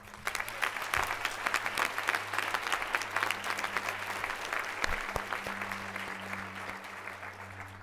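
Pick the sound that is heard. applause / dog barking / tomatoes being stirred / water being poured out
applause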